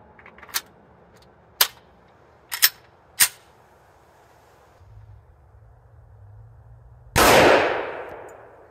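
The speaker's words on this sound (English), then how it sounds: "the next 10 rounds are the Fiocchi full power loads, just to see what kind of difference we have" S&W M&P 10mm pistol firing Fiocchi full power loads: four sharp, loud shots spaced about a second apart, followed later by a louder, longer blast that decays slowly.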